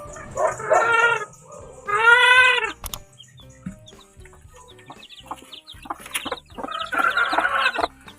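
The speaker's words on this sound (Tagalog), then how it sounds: "Ito pala yung mga bagong sisiyo ko." Newly hatched chicks from an incubator peep in bright, rapid bursts of high chirping. The calls come in several loud clusters with quieter gaps between them and are heard close by.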